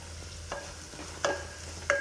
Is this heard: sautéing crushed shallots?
yes